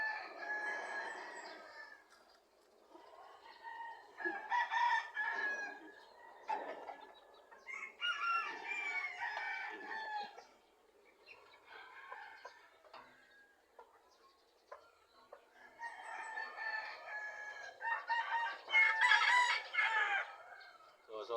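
Fighting roosters crow repeatedly with clucking in between, several loud calls rising and falling over about twenty seconds, no talk.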